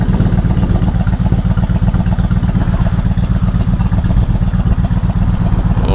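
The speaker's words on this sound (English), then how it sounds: "I just wait for a couple of minutes for this bike to warm up." Honda Shadow 1100 Aero motorcycle engine idling while warming up, a steady low rhythmic throb with fine mechanical clatter, loud and close, even and unbroken throughout.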